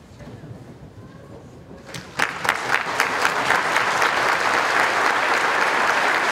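A crowd at an Army Basic Combat Training battery graduation ceremony breaks into sustained applause for military veterans, starting faintly and swelling into loud, steady clapping that continues to the end.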